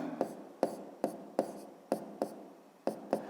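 Pen writing by hand on paper while working a fifth-grade geometry exercise: about nine crisp, quiet strokes and taps at an uneven pace, close up, with faint rubbing in between.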